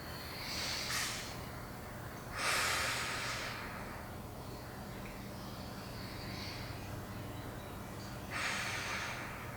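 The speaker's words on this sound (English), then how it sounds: "Deep breaths here." Slow, deep breaths during a stretching routine, with three distinct airy inhale or exhale bursts spaced several seconds apart over a quiet background hum, close and moderately loud.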